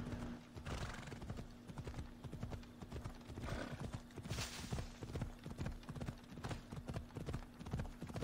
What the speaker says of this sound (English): That's a donkey.